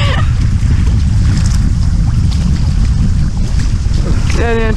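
Strong wind sweeps across Zalew Nakło-Chechło, a lake in Silesia, during an early-season outing in an inflatable boat, a loud, continuous gusty roar buffeting the microphone.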